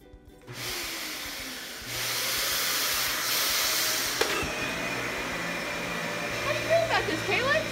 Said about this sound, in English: Calyx, here's your first experience with a vacuum.